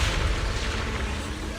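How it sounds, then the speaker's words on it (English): Heavy booming explosions and rumbling blasts in the video game Zenless Zone Zero fill the scene, loud and continuous, with a voice faintly mixed beneath. "Move in during the gaps between explosions."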